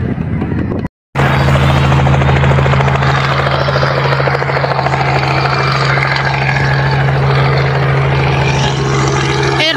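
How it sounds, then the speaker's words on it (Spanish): A helicopter hovers over a Saturday Easter egg drop in Dayton, Ohio, its steady rotor drone and engine hum loud and continuous throughout, broken only by a brief gap near the start. "Vemos el helicóptero que va a empezar a aventar los huevitos, miren."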